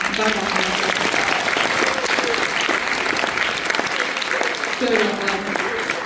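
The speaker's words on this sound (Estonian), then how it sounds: "Teeme väga-väga-väga suure aplausi." An audience at a school open-stage event applauds after a violin performance, with loud, continuous clapping throughout and voices and cheers mixed into the crowd noise.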